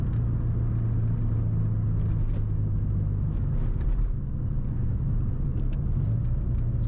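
Mazda FC RX-7 driving, heard from inside as a steady, loud low rumble of engine and road noise with a slight dip near the middle, with no one speaking.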